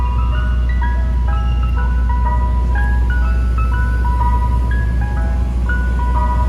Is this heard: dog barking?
no